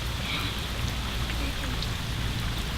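Steady heavy rain pours down onto a flooded garden with raised beds, a dense continuous hiss with low rumble and no let-up, close and loud throughout.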